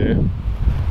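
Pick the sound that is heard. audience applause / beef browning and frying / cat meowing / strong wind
strong wind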